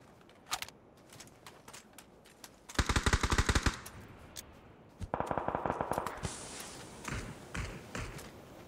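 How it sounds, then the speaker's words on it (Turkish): Bursts of automatic gunfire in PUBG, rapid sharp cracks in two dense volleys separated by scattered single shots and taps, loud and close. "Oğlum nereden vuruyor beni ya?"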